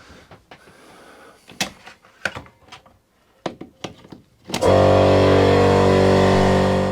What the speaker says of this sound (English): Let me fire my compressor up